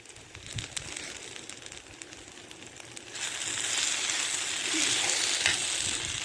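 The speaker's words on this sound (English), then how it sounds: "Something about that sizzling sound" Vegetables fry in a pan over a woodland campfire, a steady crackling sizzle that starts softer and swells louder and denser about halfway through, close and continuous with no talking.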